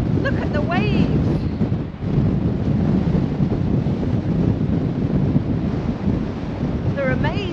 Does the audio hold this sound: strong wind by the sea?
yes